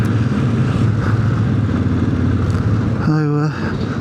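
A Royal Enfield Classic 500 motorcycle on the road gives a loud, constant low engine drone mixed with wind rush, and a short rising whine breaks through near the end.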